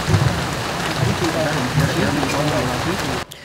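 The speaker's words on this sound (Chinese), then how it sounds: "虽然讲天顶落着雨水" Rain falls outdoors during the Baihe lotus festival in Tainan, a dense, even patter across open ground with a voice speaking over it before it cuts off abruptly near the end.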